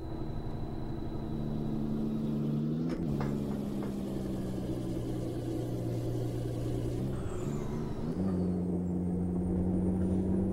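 A Kenworth T800 truck engine drones in the driving game American Truck Simulator, a steady low rumbling roar with pitch shifting at gear changes, continuous and close throughout.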